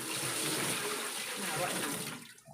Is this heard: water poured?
yes